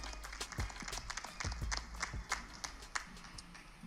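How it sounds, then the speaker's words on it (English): A crowd applauds the president of Salita Promotions at a boxing fight-night promotional event in Detroit, with scattered claps and a few loud slaps forming a steady, moderately loud round. "Give him a round of applause"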